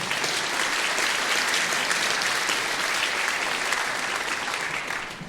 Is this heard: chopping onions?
no